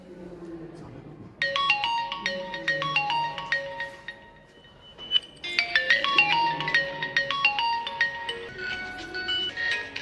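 A bright electronic ringtone plays a repeating melodic phrase, pauses briefly, then starts again louder and continues to the end.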